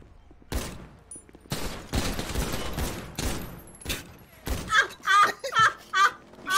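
Video game gunfire in a roleplay session comes in sharp repeated bursts of shots, loud and close, with brief pauses between volleys and players' laughter and voices mixed in.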